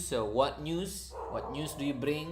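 A neighbor's dog yips and barks in short bursts somewhere off to the side, faint and partly buried under someone speaking close by throughout.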